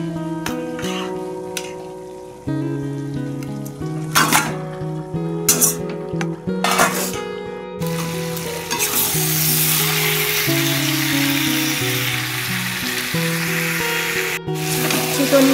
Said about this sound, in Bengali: এবার চিকেনগুলো ঢেলে দেব।